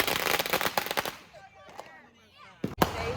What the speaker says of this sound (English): hey, we brought the city out for our fireworks